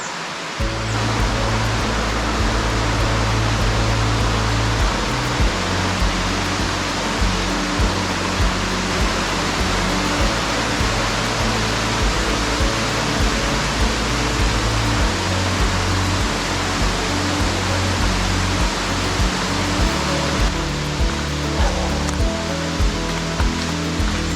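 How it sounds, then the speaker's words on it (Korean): Continuous rushing water fills the scene, a steady broadband flow of a nearby mountain valley stream, with no voices. "지금 물소리가 가까이 오니까"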